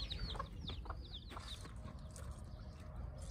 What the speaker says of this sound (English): I've seen two mama chickens this morning with new babies.